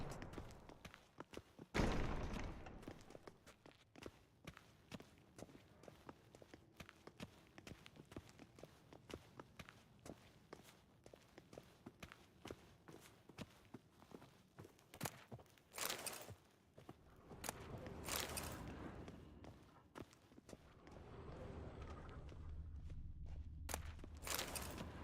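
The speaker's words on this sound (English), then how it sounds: "Footsteps." In The Witcher 3, footsteps approach in a quiet interior as faint irregular thuds and scuffs, with a few sharper knocks and a rising rumble near the end.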